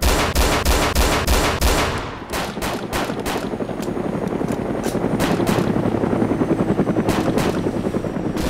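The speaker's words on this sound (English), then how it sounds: "There's a couple of helicopters driving by you." Helicopters pass by in the video game DayZ with a dense rotor chop, mixed with rapid gunfire bursts, loud and close throughout.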